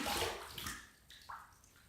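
Running water splashes over a shaving brush being rinsed under a tap, a steady close rush with brief gurgling surges as the brush moves through the stream.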